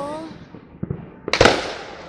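Fireworks bursting at a Fourth of July show in Monongahela, with a couple of softer thumps followed by a loud, sharp crackling explosion that trails off, while people chat nearby.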